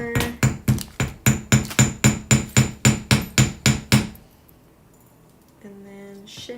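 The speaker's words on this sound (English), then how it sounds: "Then hammer." Metal jewelry piece being hammered at a workbench: about fifteen sharp, evenly spaced ringing strikes in quick succession, close and loud, followed by near silence and a faint tone.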